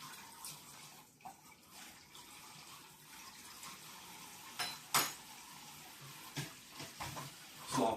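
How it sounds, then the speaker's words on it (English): Water running from a tap as something is rinsed under it, a quiet steady splash with a few louder clinks and bursts near the middle and at the end, no talking. "Now, rinse that off in there."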